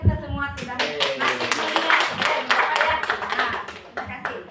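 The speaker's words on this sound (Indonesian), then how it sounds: "Tepuk tangan buat kita semua sudah" An audience at an education training session claps hands together, a dense steady patter of claps close by, mixed with voices talking over it.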